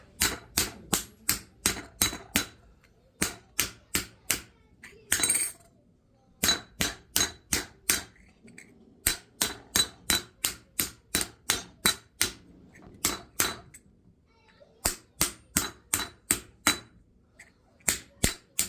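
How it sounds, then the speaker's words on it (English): Rapid metallic hammer blows ring out on copper in a swage block, struck in steady bursts with brief pauses between runs, close and loud. "I'm just going to put it in the swage block here and just dish it out."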